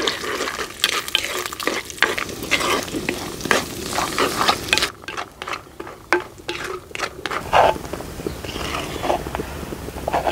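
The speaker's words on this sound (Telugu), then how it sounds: "జీడిపప్పు కాస్తంత బ్రౌన్గా అయ్యే వరకు వేయించుకొని పక్కన పెట్టేసుకుందాం." Cashews fry in a pan of ghee and oil until brown, giving a steady close sizzle with repeated scraping strokes of a stirring spoon throughout.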